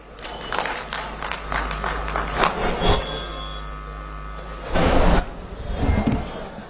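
Audience applause for Rajesh Chauhan at the Janvadi Jan Kranti Maha Rally in Lucknow: scattered, uneven claps ring out up close, fade, then a short louder burst of crowd noise follows.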